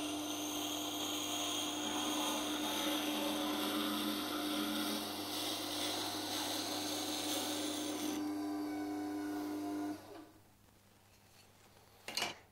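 An axe edge held in a jig is ground with slight downward pressure in a steady, consistent sweep, giving a continuous abrasive rasp that runs for several seconds, then stops abruptly with a faint clatter at the end.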